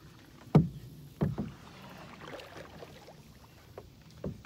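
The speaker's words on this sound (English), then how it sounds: "I'm just out here paddling along and probably exerting way more energy than I need to" Paddle strokes from a Sun Dolphin American 12 jon boat on open water: several close splashing dips at an uneven pace, separated by quiet stretches of faint water and air noise, with no talking.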